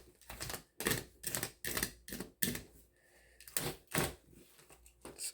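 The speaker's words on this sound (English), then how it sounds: "I'm having a hard time just cutting it. Just cut a little bit more here." Tough ceramic armor plate material being cut, heard as a series of loud, harsh bursts in uneven rhythm, each a second or less, with a brief quieter grinding passage between them, close by and without talk.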